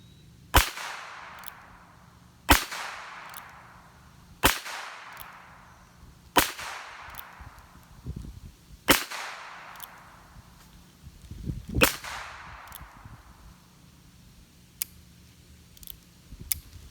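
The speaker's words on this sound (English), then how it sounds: "now we're going to go shoot the hollow points" A Heritage Rough Rider .22 revolver firing hollow point rounds outdoors, six sharp cracks spaced about two seconds apart, each with a fading echo, over faint background hum.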